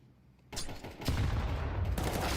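Heavy gunfire erupts in a Counter-Strike 2 esports match: loud, overlapping bursts of shots and an explosion-like boom in a sustained, chaotic exchange.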